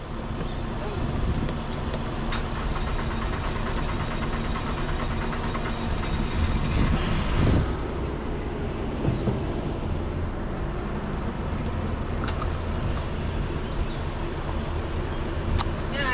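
An engine is started and then keeps running as a steady low rumble, with people talking intermittently nearby.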